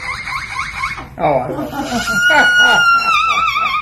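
A parrot imitates a car alarm, giving rising and falling whistled siren tones that repeat over a few seconds after a brief spoken word, fairly loud and close.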